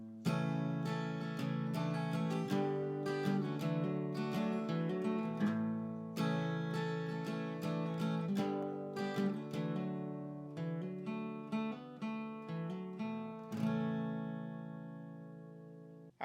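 An acoustic guitar plays the outro of a song, bright picked and strummed chord patterns running steadily and close before a final chord rings out and fades near the end, with no talking.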